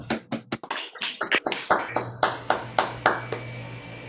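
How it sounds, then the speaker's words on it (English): A ragged burst of clapping from several people unmuted on a seminar video call, sharp uneven claps that start scattered and settle into a loose rhythm, with a steady hum underneath. "Let's do a round of applause if everyone can unmute"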